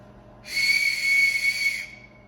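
A loud, steady whistle with a hissing edge sounds while appalam (papadum) is cooked without oil. It rises suddenly, holds for about a second and a half, then cuts off, leaving a faint tone.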